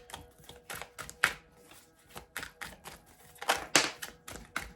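Tarot cards shuffled by hand during a reading, a rapid series of crisp riffling and slapping bursts at close range, some louder than others, with no talking.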